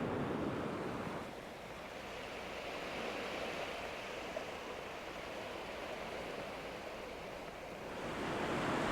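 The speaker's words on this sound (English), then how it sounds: "Just take a look at Newton Beach from earlier this summer." Surf rolls onto Newton Beach in Porthcawl, South Wales, as a continuous soft wash of breaking waves that swells gently at the start and end, mixed with light wind and no voices.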